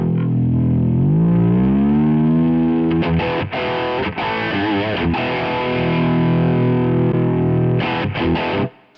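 Electric guitar played through a Friedman amp model on a NUX MG-300 multi-effects unit: a loud, dirty, distorted tone with a long sustained bend, then choppy chords and short bursts, heard alone without talk.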